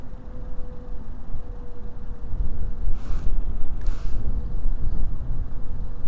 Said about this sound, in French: Il y a pas mal de vent aujourd'hui